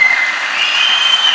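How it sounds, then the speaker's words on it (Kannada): Loud, dense applause from a church audience at a kids' VBS grand finale, a continuous wash of clapping close and steady throughout, with a faint whistle riding over it. "ಜೋರಾಗಿ ಚಪ್ಪಾಳೆ."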